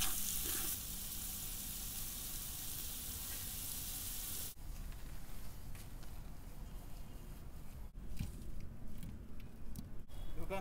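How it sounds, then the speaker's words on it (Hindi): Paneer frying in hot oil in a handi, a loud, steady sizzle that hisses brightly at first and then settles into a softer crackle with occasional stirring knocks. "अब इस पनीर को अच्छा सा फ्राई बनाएंगे।"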